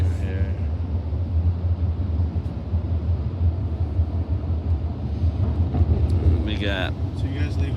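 A car drives through a tunnel, its steady low engine and road rumble filling the space throughout, with faint higher noises late on.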